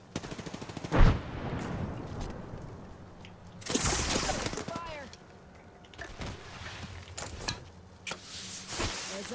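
Bursts of gunfire in the game Apex Legends, loud rapid volleys with sharp cracks coming in clusters, while a voice talks over the action.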